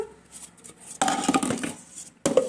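Cauliflower pieces tumble into a bowl of kibbeh, giving a loud burst of clattering and knocking against the bowl, a short pause, then a second bump at the end.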